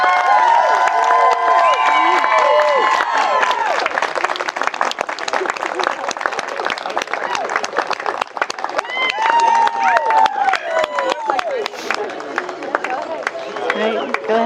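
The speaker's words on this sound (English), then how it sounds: "please join me in applause for the happy couple" Wedding guests at a ceremony applaud the newly married couple, a dense, sustained wave of clapping with cheers, whistles and excited voices mixed in throughout.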